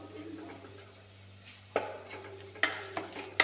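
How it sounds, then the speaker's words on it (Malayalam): Spice powder roasting in a pan for a mackerel curry, a quiet sizzle under a low steady hum, broken by a few sharp spoon scrapes and knocks against the pan. "പൊടി മൂത്ത് വരുന്നുണ്ട്."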